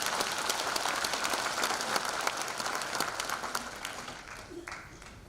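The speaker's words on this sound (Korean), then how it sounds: "여러분 다시 한번 힘찬 격려 박수 부탁드리겠습니다" Sustained applause from a crowd at the launch ceremony of the private support committee for the Hamyang wild ginseng anti-aging expo, dense steady clapping that fills the whole stretch and tapers slightly toward the end.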